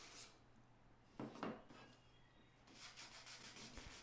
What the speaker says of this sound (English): you can see I'm always moving the sandpaper in the same direction in a straight line